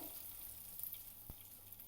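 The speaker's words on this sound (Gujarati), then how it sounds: "હવે આપણે આ તેલને જે કેરી સુધારેલી છે એમાં જવા દઈશું" Hot tempering oil poured over chopped raw mango for an instant pickle gives off a faint, soft sizzle with a brief splash partway through, heard alone at low level.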